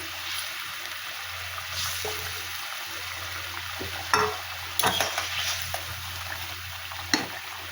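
Tilapia fish curry broth bubbles at a steady simmer in a pan with a low background hiss, broken by a few sharp clinks of a utensil.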